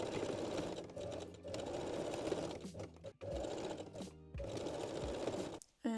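A sewing machine backstitches the side seams of lingerie panties in long, loud, steady runs of rapid stitching, broken by a few short pauses and a brief stop near the end.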